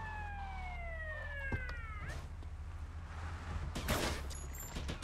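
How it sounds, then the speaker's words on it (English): Police siren in the video game Vice City, wailing tones sliding downward alongside game engine rumble, followed by a burst of noise and brief high electronic beeps near the end. "This siren might be putting me more in danger than good."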